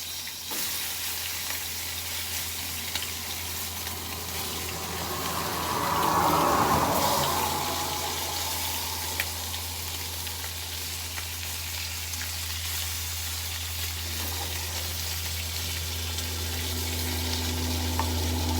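Bacon sizzles and fries steadily in a pan at a trucker's roadside camp, a constant hiss that swells briefly as the strips are stirred or turned, close and clear with no talk.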